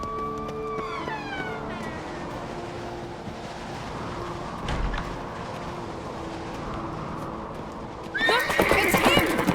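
A horse in The Witcher 3: Wild Hunt video game whinnies loudly near the end, following a steady rumble of galloping hooves and movement, with a shrill drawn-out cry heard earlier as well.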